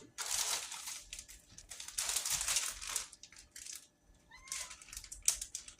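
A cat meows several times in a home kitchen while yellow squash is being prepared for a casserole, with crinkling and handling noises between the calls, fairly close and moderately loud.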